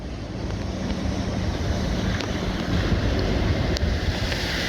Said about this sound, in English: But this water here, extremely fast, very deep, and a lot of undercurrent.